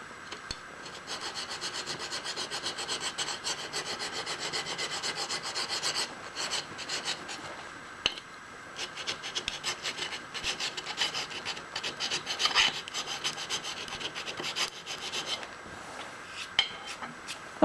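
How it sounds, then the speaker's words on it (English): A hand file rasps back and forth across the edge of a metal die part to remove a burr, producing repeated scratchy strokes in an irregular rhythm, close and fairly quiet with a few brief pauses. "Let me take the burr off the other side too."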